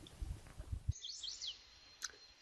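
Small birds call near a wilderness campsite in the Boundary Waters during a May canoe trip. Faint chirps and a high, swooping whistle follow some low, close handling noise, with one sharp call near the end.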